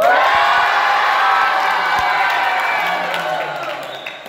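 Students in the middle stand at a pesantren debate cheer and shout loudly as one crowd, the roar steady throughout and fading a little toward the end.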